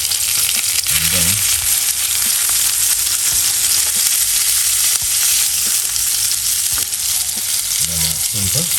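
Food frying in a pan gives a loud, steady sizzle with crackling spatter that holds unbroken throughout, and a few brief low stirring or shifting sounds come through now and then.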